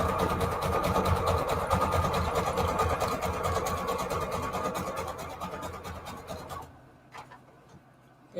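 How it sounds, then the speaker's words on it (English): A sewing machine stitches a zigzag seam along the edge of a junk journal page made from an old book, a fast, even mechanical whirr held close for several seconds before it stops, leaving a few faint clicks. "I'm going to add a zigzag stitch over here to the side of it"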